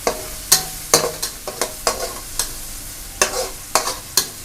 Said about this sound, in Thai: ผัดให้หอมเลย